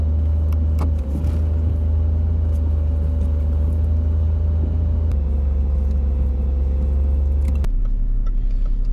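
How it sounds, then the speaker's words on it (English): Steady low engine rumble and road noise from inside a car driving around Portishead town, continuous and fairly loud throughout with a slight shift near the end, no talking. "So let's drive around Portishead."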